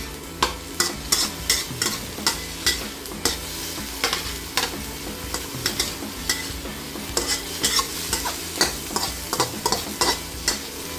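Shrimp and basil stir-fried in a pan under a constant loud sizzle, punctuated by frequent sharp scraping and clanking strokes of a spatula against the metal, no talking.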